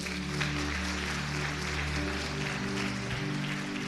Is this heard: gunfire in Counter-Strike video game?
no